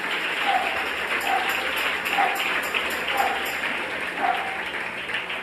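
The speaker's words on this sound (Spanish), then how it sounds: "Dale un aplauso al Rey." A church congregation applauds steadily for a few seconds, a moderate wash of clapping with faint ringing tones recurring underneath.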